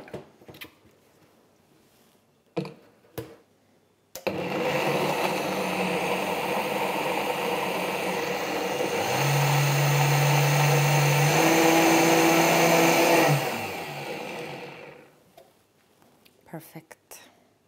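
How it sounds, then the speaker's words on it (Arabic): A kitchen blender whirs loudly for about ten seconds as it mixes hot soup ingredients, its motor pitch rising partway through, with quieter kitchen clatter before and after. "لما بنخلط اي اشي سخن بالبلندر"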